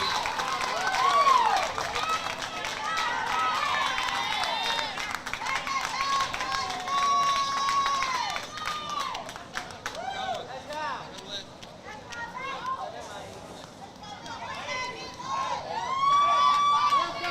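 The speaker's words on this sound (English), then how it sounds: "Hugs from his teammates and a standing ovation from the Georgia crowd" A Georgia crowd at a youth baseball game gives a standing ovation, with sustained cheering, clapping and shouts from children and adults spread around the stands, continuing under and between bursts of voices throughout.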